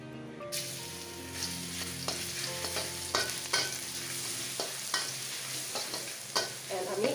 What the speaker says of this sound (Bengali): সো আমরা প্রথমেই দিয়ে দিব রসুনের কিমা। এরকম কিমা করা রসুন দিয়ে দিব।